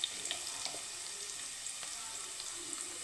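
Kongu-style tomato rice masala sautéing in oil until golden: a soft, steady close sizzle with scattered small pops and crackles throughout.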